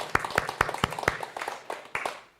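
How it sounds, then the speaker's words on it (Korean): A church congregation at a Baptist Thanksgiving service in Austin claps. The clapping is sparse and distinct, with a few hands keeping a loose rhythm, then it thins and fades out to quiet. "점점 박수 소리가 좀 적어들고 있어요."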